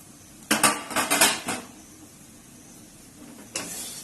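Flattened rice (chira) being stirred in a pan over very low heat, a quick burst of metallic spoon-on-pan clinks and scrapes, then quiet, then one more short scrape.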